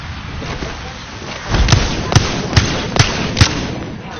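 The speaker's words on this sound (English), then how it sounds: "Throwing thermite grenade." Thermite grenade going off in Apex Legends: after a second and a half of steady game noise, five sharp bursting cracks land at roughly even half-second intervals, loud and close.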